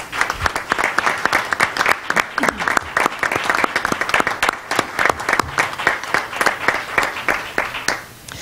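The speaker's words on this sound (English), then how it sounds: "I think they need to get a round of applause from everybody" An audience at a school district committee meeting breaks into sustained, loud applause, with dense clapping continuing throughout before fading at the end.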